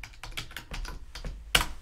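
Budget entries are typed on a computer keyboard in quick, uneven clusters of soft key clicks, capped by a sharper final tap, close and quiet with no speech.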